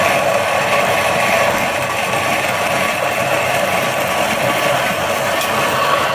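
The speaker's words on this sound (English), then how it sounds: "I'll put it in the grinder." A Niche Zero coffee grinder grinding beans, a steady, loud, continuous whirring grind that holds evenly from start to finish with no voices over it.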